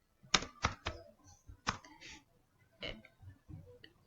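Computer keyboard keystrokes entering a command at a terminal: a handful of crisp, close clicks in quick clusters with pauses between, faint and alone.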